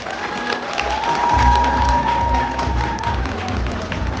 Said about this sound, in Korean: 여러분들 정말 큰 박수를 부탁드리도록 하겠습니다